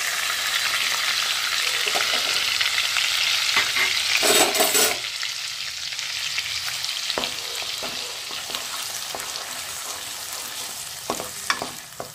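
Onion, ginger and garlic paste with tomato fries in a pan on a home stove for palak chicken, a steady broad sizzle with scraping stirs throughout and a louder burst of spattering near the middle.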